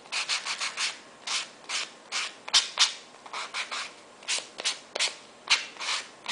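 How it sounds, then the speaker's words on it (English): Paper craft card for a Graphic 45 Bohemian Bazaar artist trading card being sanded along its edges: close, repeated short scratchy strokes in an uneven rhythm, with no talking. "I like to sand it up afterwards"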